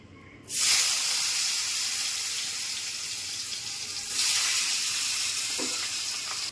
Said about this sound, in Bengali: এবার কাঁচকলাটা ভেজে নিচ্ছি।